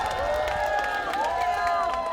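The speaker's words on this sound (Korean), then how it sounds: "여러분 큰 박수" Crowd applause and cheering fill a campaign rally for Democratic Party candidate Lee Jae-myung at Geumneung Station in Paju. The sound is a steady, dense roar of many people, with sustained tonal noises woven through it.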